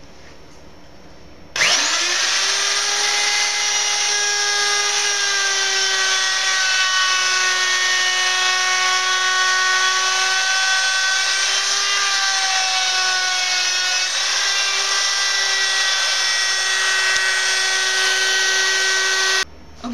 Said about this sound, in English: you want to take the router and you want to move the router on the outside counterclockwise around the piece.